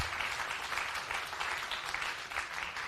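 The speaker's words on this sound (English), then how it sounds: "Let us give our panel a round of applause" An audience at an evening panel discussion gives a sustained round of applause, a dense, steady clatter of many hands clapping with no speech over it.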